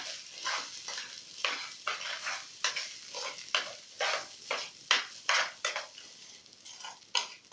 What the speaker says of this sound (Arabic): هقلب كل دوت مع بعض كده عشان ياخد ويدي مع بعضه